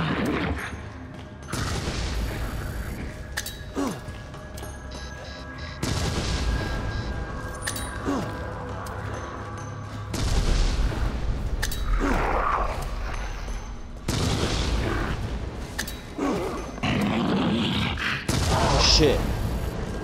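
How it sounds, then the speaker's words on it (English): Grenades explode in the video game Not A Hero amid continuous gunfire and bursts, dense loud blasts layered over game sound effects throughout. "See what grenades do against this thing."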